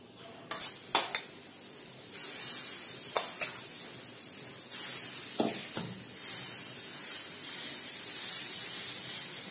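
Moong dal, chana and makhana chilla batter sizzles steadily on a hot pan, with a few sharp clinks of a utensil early on and a constant hiss of frying throughout, fairly quiet and close, no talking.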